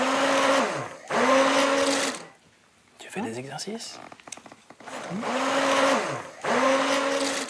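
A kitchen blender making puree whirs loudly in two long bursts, pausing while a person speaks briefly, then running again in two more bursts.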